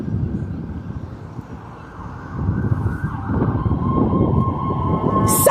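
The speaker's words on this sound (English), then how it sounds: "Sirens every minute." A siren rises in the background over steady traffic rumble, growing louder toward the end.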